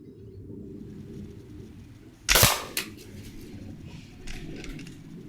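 An SMK Synergy 208 .22 air rifle fired from a rested position: one sharp, loud crack, then a softer click a moment later, against a quiet outdoor background.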